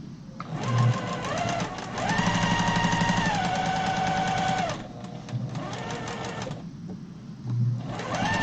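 A sewing machine stitching a quilt runs in steady bursts with a mechanical clicking whirr, pausing briefly between runs, close and fairly loud with no talking over it.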